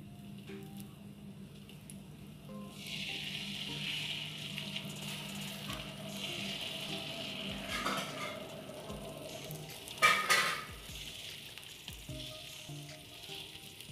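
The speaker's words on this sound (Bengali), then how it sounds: "তো আমি চুলাটা অন করে দিয়েছি, আমার তেলটা গরম হয়ে গিয়েছে। এরপরে হচ্ছে আমি ডোটা একটু একটু করে হচ্ছে দিয়ে দিব প্যানের ভিতরে।" Dough frying in hot soybean oil in a pan, a soft continuous sizzle and bubbling heard close and fairly quiet, with a brief louder crackle near the end and no speech.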